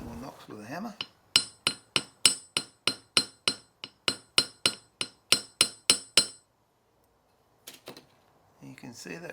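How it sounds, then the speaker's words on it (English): Hammer knocking on a piece of metal laid on a short length of railway track used as an anvil while shaping a pyrography pen tip: about sixteen sharp, ringing metallic strikes in a steady rhythm, close and loud, followed by a pause and a few faint clinks. "Or knocks with a hammer."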